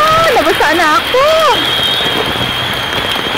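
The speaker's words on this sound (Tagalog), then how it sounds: "Malakas ang ulan!" Heavy rain pours down during Typhoon Hanna, a steady loud hiss of falling water that begins under a brief stretch of talking and then continues alone.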